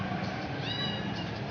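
A cat meows once, fairly faint, over steady kitchen background noise where pakoras are being fried in oil.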